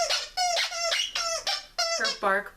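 A dog's Bark Box squeaky toy, shaped like a coffee cup topped with whipped cream, squeaks in a rapid series of high, wheezy squeals, each lasting a fraction of a second and close by.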